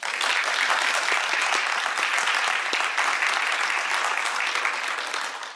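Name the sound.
round of applause for award recipients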